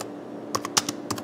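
Fingers type on a computer keyboard, giving a quick cluster of about half a dozen crisp, close keystrokes after a brief quiet moment.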